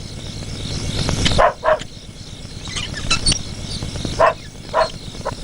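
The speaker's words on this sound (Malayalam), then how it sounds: "കുരയ്ക്കുന്നുണ്ട്" A dog barks at night outside a house, a few short, sharp barks in two pairs rising above a steady musical background.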